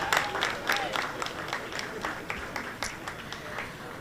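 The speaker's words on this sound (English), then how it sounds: "One more round of applause for our Prime Minister and Jamaica." Guests at a Jamaica 60 launch reception in New York applaud the Prime Minister and Jamaica, a close, fairly sparse round of individual claps with scattered crowd noise and faint voices underneath.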